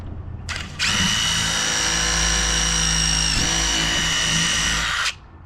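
A power drill bores a pilot hole through a shed door for a hasp, with a steady high-pitched whine that runs loud and close for about four seconds before cutting off.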